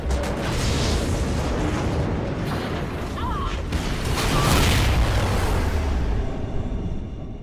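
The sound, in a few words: detonation explosion of a space station in the video game Call of Duty: Ghosts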